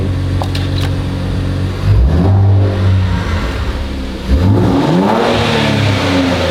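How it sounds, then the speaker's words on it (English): A bolt-on tuned 2023 Nissan Z engine revs hard twice, each rise climbing quickly and falling back, loud and close with no voices. "It definitely revs faster."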